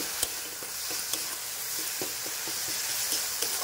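Spice paste sizzling and frying in a pan with melted tomatoes for a Bengali begun bahar dish, a steady close hiss broken by periodic stirring scrapes and clicks.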